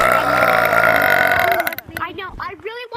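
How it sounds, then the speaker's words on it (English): A loud, drawn-out burp blasted toward someone in a playful Christmas prank, lasting over a second before breaking off into a voice talking and laughing afterward. "I'm gonna burp in your face."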